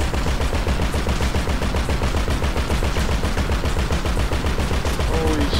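Rapid automatic gunfire from Grand Theft Auto 5 rattles continuously and loudly, a dense unbroken stream of shots with faint voices underneath.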